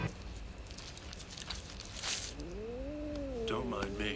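A cat meows in a scene from the 1989 horror film Pet Sematary, one drawn-out, wavering yowl rising and falling near the end, with people talking around it.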